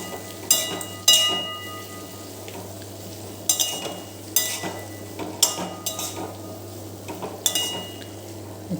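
A spoon stirs red chili and coriander-cumin powder into capsicum in a pan, making intermittent scraping clinks against the metal over a soft, steady sizzle.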